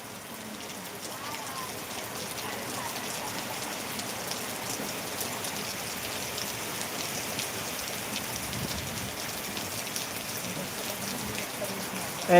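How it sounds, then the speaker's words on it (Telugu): Heavy rain pours down in a dense, steady hiss, drumming on surfaces without a break. "చూడండి భారీ వర్షం కురుస్తుంది"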